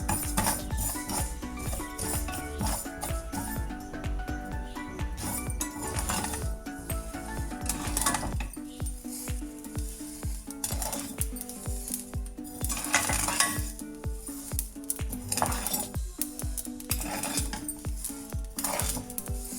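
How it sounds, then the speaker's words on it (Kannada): Four spoonfuls of mustard seeds, roasted on a low flame for a citron lime pickle, splutter and pop in a hot pan, dense irregular crackles with clinks of a spoon against metal and no talking. "ಈಗ ಸಾಸಿವೆ ಚಟ್ಪಟ ಅಂತ ಸಿಡಿದಿದೆ"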